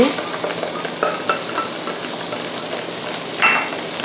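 Shrimp stir-fried with soy sauce, ketchup, oyster sauce, sugar and fish sauce, a steady loud sizzle with scattered scrapes and taps of a utensil against the pan, close by.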